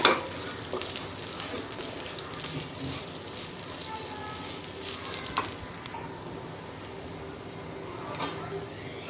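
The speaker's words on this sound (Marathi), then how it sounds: "आता आपण फक्त 1 मिनिटासाठी आपण आलं लसूण भाजून घ्यायचे" Ginger and garlic roasting in a pan for a traditional chicken rassa masala, giving a steady close sizzle with occasional stirring scrapes throughout.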